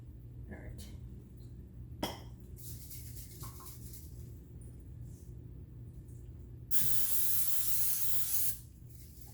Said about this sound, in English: I am also spraying the sides of the pan because we are going to push the batter up partway up the sides